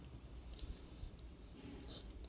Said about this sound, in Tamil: ஸோ இந்த மாதிரி ஒரு பீப் சவுண்டு வரும்.